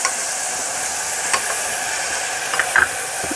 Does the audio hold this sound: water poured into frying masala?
yes